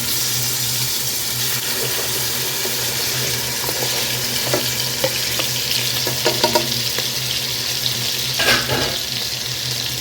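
Chicken livers frying in a hot pan: a constant bright sizzle with scattered pops and spoon-scrape clicks that grow busier toward the end, heard alone at close range.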